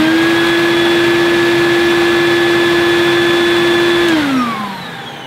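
A new-in-box 1980s Hoover Sprint 100 canister vacuum cleaner runs with a steady, loud motor whine and a bright tonal hum for about four seconds, then winds down as its pitch drops and the sound fades.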